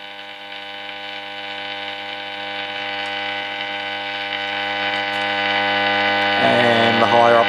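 A Schaub Strauss Model 41 valve radio gives off a steady electrical hum and static with no station tuned in, a constant tonal drone that grows slightly louder, with a brief crackle of tuning noise near the end.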